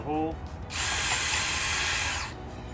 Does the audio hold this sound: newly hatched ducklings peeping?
no